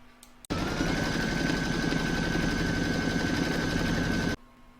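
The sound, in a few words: embroidery machine stitching fabric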